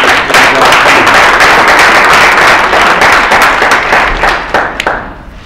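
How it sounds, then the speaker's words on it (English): Dense, loud applause from a forum audience at a National Bar Association event greets the First Deputy Police Commissioner, steady throughout before thinning out at the end, with no talking over it. "Let's give a big round of applause to First Deputy Police Commissioner."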